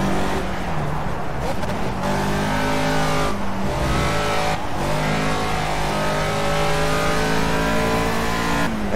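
A Caterham Super Seven in the racing game Project CARS at Oulton Park, its engine revving hard and continuously, with brief lifts and gear changes between steady high-pitched pulls, under a commentator's voice.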